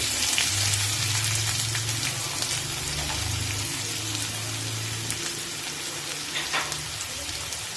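Chopped onions hit hot oil with curry leaves and garlic, giving a loud, close, rain-like sizzle with popping crackles that continues steadily throughout while a low hum sits underneath; nobody talks.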